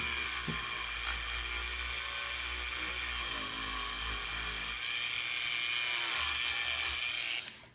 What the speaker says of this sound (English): And now on the pendant side, I want to first sand off the top.